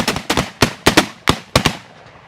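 A volley of muzzleloader shotguns being discharged outdoors at a driven shoot to empty them, about seven loud sharp bangs in quick irregular succession, some nearly overlapping, with a short fading echo after the last.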